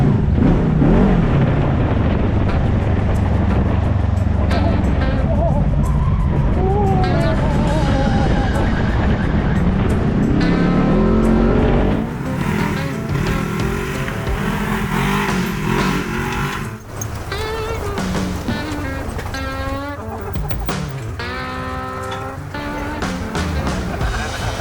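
A 2022 Polaris RZR side-by-side runs hot laps on a dirt parking lot, its engine roaring and revving in surges with gravel crunch, and voices talking over it in the second half.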